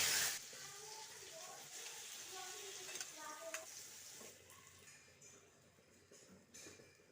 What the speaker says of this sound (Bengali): এবার দিয়ে দেব টমেটো। এক মিনিট মতো ভেজে নেওয়ার পর আমি একটা মিক্সিং জারে তুলে নেব।